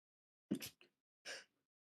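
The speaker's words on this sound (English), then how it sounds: "apologies, had a little bit of a sneezing fit." A couple of quick, breathy sneezes close by, a sharp burst with a small catch, then a second one a moment later, in otherwise quiet surroundings.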